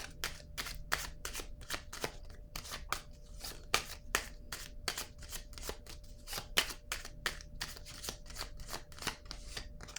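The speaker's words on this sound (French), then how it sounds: "je vais piger une carte ici" A deck of cards is being shuffled in rapid, continuous riffles and flicks, close and crisp, with no voices.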